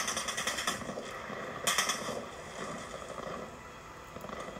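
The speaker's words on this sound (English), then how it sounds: "I don't see where these people are shooting me from" Enemy gunfire in a video game aimed at the player, bursts of rapid shots with sharp broadband cracks, loudest around the middle, over steady background game noise and no talk.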